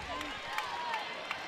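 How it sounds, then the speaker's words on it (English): At a Penn State vs Princeton college wrestling dual, the Rec Hall crowd cheers in a steady, moderately loud roar with a few sharp claps and shouts poking through. "Rec Hall crowd making some noise for their wrestler"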